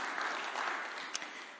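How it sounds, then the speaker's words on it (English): Applause from a church congregation during a morning worship service fills the room, a steady wash of many clapping hands, fairly loud and unbroken, with one brief sharper clap standing out near the end. "And for that, we applaud as well."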